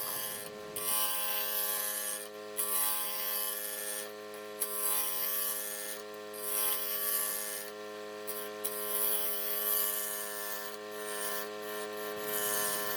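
Wood lathe turning a bowl with light passes, a steady motor hum with rhythmic scraping as the tool cuts, close and continuous with brief dips.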